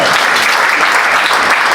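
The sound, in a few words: audience applause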